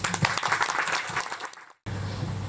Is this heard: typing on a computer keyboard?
no